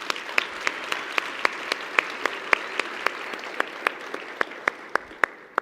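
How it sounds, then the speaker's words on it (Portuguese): Steady applause from a crowd, with sharp individual claps standing out at a regular beat over the dense clapping, fading slightly toward the end. "uma salva de palmas"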